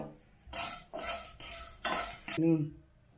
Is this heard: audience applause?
no